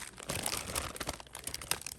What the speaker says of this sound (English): listen to those crunchy peas